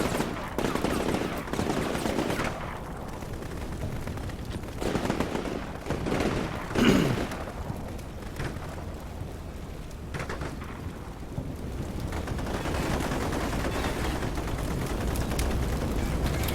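Sustained gunfire and rumbling battle noise from the video game Shock Force 2, with Dutch peacekeepers ambushed in Syria, a dense continuous barrage with one sharper burst midway.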